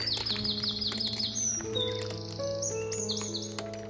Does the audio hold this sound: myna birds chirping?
yes